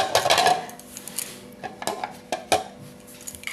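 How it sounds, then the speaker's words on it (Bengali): A metal lid set over a pot of milk for rabdi, a bright clatter of metal at the start followed by several sharp clinks and knocks spaced irregularly, with no talk. "একটু ঢাকা দিয়ে রেখে দেবো 5 মিনিটের জন্য"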